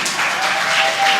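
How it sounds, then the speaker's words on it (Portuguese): A short burst of applause from a seminar audience at a university, dense and steady for about a second with no voices over it. "Quero palmas, senhores."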